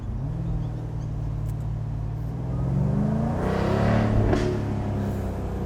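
A Jaguar F-Type R sports car engine revs, rising to a louder, throatier peak around the middle before easing, heard fairly close with a steady rumbling base throughout.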